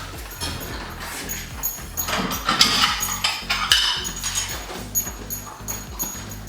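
Plates handled in a home kitchen, giving several light clinks and knocks against a steady low background hum, with the clatter gathering in the middle of the clip.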